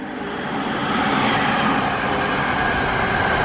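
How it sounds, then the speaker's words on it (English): A train crossing the Ebigawa bridge in Japan, heard as a steady, loud rolling rumble with rail noise that holds for the whole stretch, and no voices. "There's a train flowing by."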